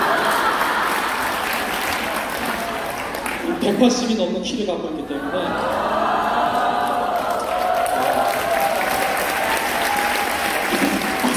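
Audience applause in a Korean lecture hall during a success-story talk, steady clapping that carries on beneath someone speaking, rising briefly in the middle.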